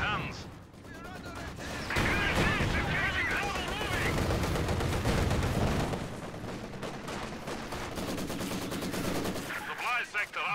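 Dense machine gun fire from MG34s and a Maxim rattles through a WWII video game battle, rapid overlapping bursts near and loud for most of the stretch, with a commentator talking over the shooting.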